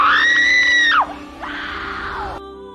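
A man screams in a film as a Taliban leader is about to kill him: a loud, strained cry that breaks off sharply, followed by a second, weaker wail that fades.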